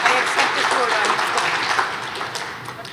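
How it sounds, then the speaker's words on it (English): An audience at an all-stars sports awards gala applauds for a player, Tim Smith; steady, fairly loud clapping fills the hall with a murmur of voices mixed in. "Big round of applause for Tim."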